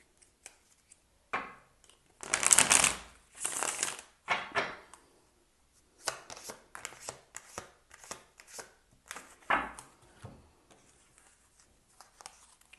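Tarot cards shuffled in quick bursts of crisp riffling and shuffling, close and moderately loud, with short pauses between bursts and no talking.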